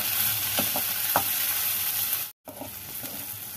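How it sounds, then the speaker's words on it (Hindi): Onions fry in a pan for a gatta besan sabji, a steady close sizzle with occasional soft scraping taps, briefly cut by a short dropout. "हम प्याज डाल देंगे। और प्याज को भून लेंगे।"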